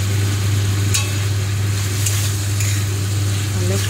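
A curry being fried in a pan after garam masala and Kashmiri chili powder go in, a steady loud sizzle with a low constant hum beneath and a couple of brief scraping clicks from stirring.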